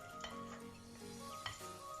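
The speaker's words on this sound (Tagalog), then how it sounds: "At imimix na naman natin ulit." Spoon stirring thick fudge brownie batter in a bowl, soft scraping and wet swishing strokes with a couple of sharper knocks against the bowl, close and quiet, no voices.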